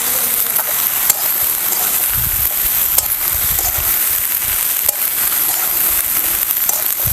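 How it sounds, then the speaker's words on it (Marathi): Ivy gourd (tondli) being sautéed in a pan, with a steady soft sizzle and faint crackle throughout, a few sharp clicks of stirring, and low-end rumble beneath. "तर आता आपण हे सगळं आहे ना चांगलं असं आपण हे परतून घेऊया"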